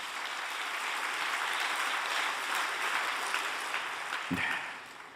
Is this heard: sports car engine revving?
no